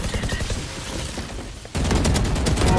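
Rapid gunfire bursts from a Valorant match ring out loud and dense, shifting to heavier, sharper volleys partway through.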